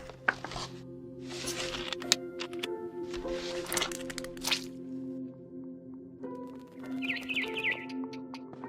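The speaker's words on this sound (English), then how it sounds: "Then I heard chirping outside my window. It was a barn swallow going back to her nest." A barn swallow chirps in the video game What Remains of Edith Finch, a short run of faint, high twittering calls near the end, set against a steady tonal game soundtrack and scattered soft clicks.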